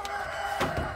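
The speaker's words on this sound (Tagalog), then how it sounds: "Ayun, manok yun." A Black Beauty rooster clucks and crows in a loud short burst, with a sharper call near the end, heard close amid a steady background hum at a pigeon and poultry stall in Molo, Iloilo City.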